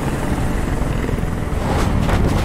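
In the video game Detroit: Become Human, a helicopter hovers nearby. Its steady, dense rotor and engine roar fills the scene with no clear speech over it.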